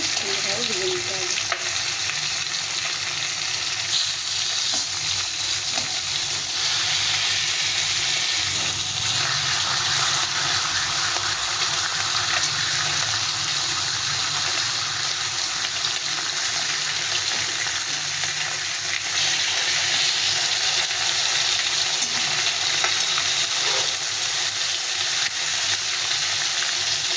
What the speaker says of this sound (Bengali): এগুলোকে এক উল্টে পাল্টে ভেজে নিতে হবে